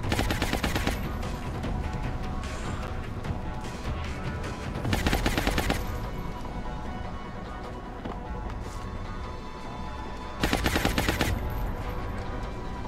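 Rapid automatic gunfire in XCOM Long War on brutal difficulty, continuous and loud, with sharper, heavier bursts standing out around the middle and near the end.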